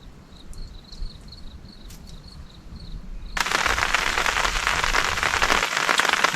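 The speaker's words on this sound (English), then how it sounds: "It's not a very hard rain, it's a light shower" Light rain shower patters steadily on a tarp close by in a remote gulf near waterfalls, becoming a denser, louder hiss of drops partway through, with faint insect chirps early on.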